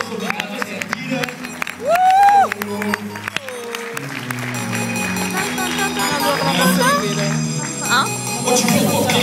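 Live rap concert audience at Teatro Garau in Oristano breaks into a brief burst of applause and cheering, soon overtaken by music and a performer talking over a busy crowd.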